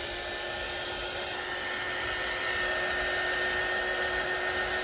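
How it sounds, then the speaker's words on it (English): A heat gun drying freshly applied gold splatter paint blows a steady, loud broadband rush of air that runs continuously with a faint tonal whine, alone without talk. "Maybe I should just grab my heat gun, try and dry that off a bit."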